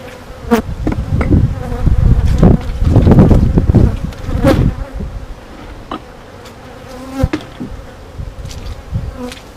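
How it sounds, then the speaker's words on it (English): A dense swarm of honey bees buzzing loudly and steadily as they are shaken into a hive box, with occasional sharp knocks and bumps close by. "I'm going to open number 3 up real quick right here and shake some bees into this box."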